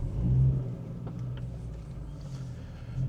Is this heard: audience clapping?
no